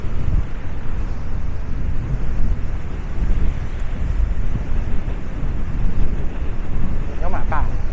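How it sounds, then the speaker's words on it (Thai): Strong wind roars across the coast at Chapman's Peak near Hout Bay, Cape Town, buffeting the microphone with a loud, constant rumble; a brief voice cuts in near the end. "ลมแรงพอสมควรเลย"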